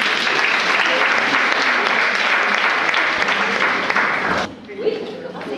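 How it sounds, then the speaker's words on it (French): An audience at a teacher training session in Martinique applauds steadily and loudly for several seconds, the clapping dense and sustained before breaking off abruptly near the end, leaving faint room noise. "Parfait, là on applaudit."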